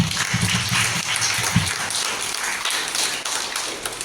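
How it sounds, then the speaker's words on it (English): Audience applause at a Teachers Day school function, a steady wash of many hands clapping close by with a few heavier thumps, continuing for the whole stretch without speech. "Let us give a big clap."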